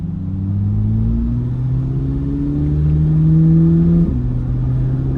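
A 2026 Chevrolet Corvette Z06 launches from a stop and accelerates hard, its engine note climbing steadily for about four seconds before a brief dip at a shift, then pulling on, loud and close with a deep rumble.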